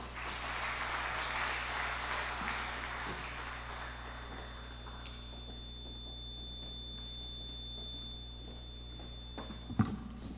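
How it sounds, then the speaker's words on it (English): Audience applause in a hall during an opening conference session, a broad wash of clapping that is strongest early and fades over about ten seconds, with a steady low mains hum underneath and a brief bump near the end. "Please, round of applause for that."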